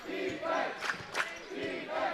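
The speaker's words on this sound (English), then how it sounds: "Mustangs faithful is cheering." Crowd of Mustangs fans cheering and shouting at a varsity basketball game against the Kings, a steady roar of voices with two louder swells, heard fairly close.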